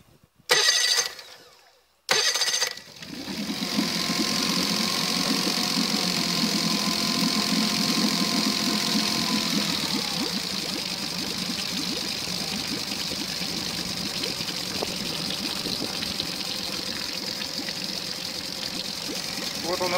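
A Tohatsu EFI outboard motor settles to a steady mechanical hum at minimum throttle idle after a couple of brief starting bursts, running evenly and fairly close with a slight drop in pitch midway.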